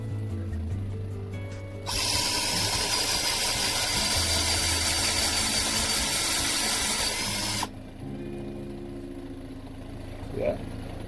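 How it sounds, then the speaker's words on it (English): A drill bores out a handmade tobacco pipe: a loud, steady, close-up grinding whine lasts about six seconds, with quieter handling noises before and after. "Let's drill it out."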